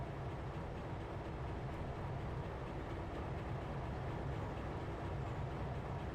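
A Norfolk Southern locomotive in Trainz Simulator 3 rumbles with a steady, even drone, a continuous rolling noise at moderate level with no distinct beats.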